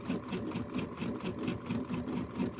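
A sewing machine stitches quilt pieces with a steady, even mechanical whirring hum and rapid rhythmic needle pulses, fairly quiet and close, without talk.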